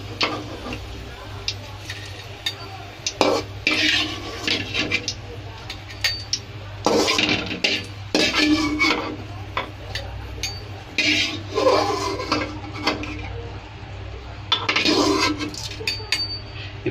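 Cashews and raisins roast in a pan for milk payasam as a spoon scrapes and clinks against the metal in irregular bursts, close by, over a steady low background hum.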